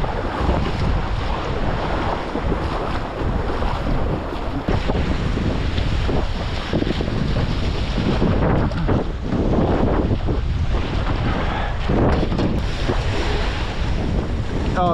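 Rough, buzzing chainsaw engine drives a Thai longtail boat across water, steady and loud under heavy wind rush and splashing waves, with no voices.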